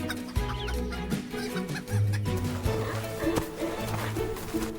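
Chickens clucking near and far over a steady low background murmur, with irregular short calls scattered throughout.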